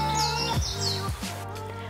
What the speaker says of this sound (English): They are definitely a soprano in the bird's family, where they sing high notes like this.